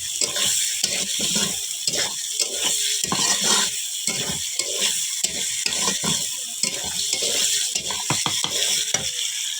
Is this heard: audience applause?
no